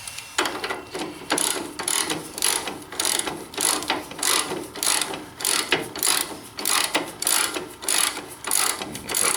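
A ratchet wrench clicks steadily while backing a nut off a front suspension component during a teardown, with repeated bursts of rapid pawl ticking in an even rhythm, close and fairly loud, with no talk.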